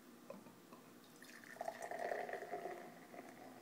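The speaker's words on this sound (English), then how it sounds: "So let's give it a pour." Baltika Brewer's Collection Russian Imperial Stout is poured from a bottle into a glass, a faint, quiet trickle that builds to a brief gurgling fill midway and then fades.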